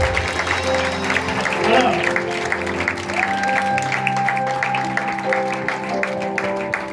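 A church congregation applauds during a worship service, sustained clapping and crowd noise rising and swelling, with a voice speaking over it.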